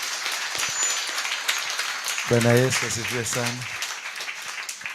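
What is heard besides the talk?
congregation applauding at church service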